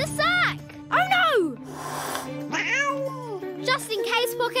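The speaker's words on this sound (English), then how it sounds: "Cat!" A cat in an animated Peter Rabbit scene gives several drawn-out, wavering meows close up, with excited voices and a breathy hiss mixed in.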